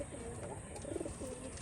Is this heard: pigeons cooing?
yes